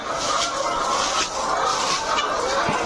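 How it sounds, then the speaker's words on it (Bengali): Dense chorus of many chickens clucking and chattering at once during morning feeding on a farm, continuous and close, with no talking. "মুরগিকে সকালের খাবার দেয়া হচ্ছে"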